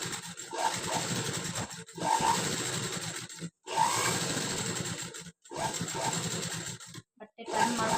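A sewing machine runs in steady bursts as it stitches along the piping of a Madhubala-style blouse, each run broken by short pauses. The motor hum and needle chatter sit close and fairly loud.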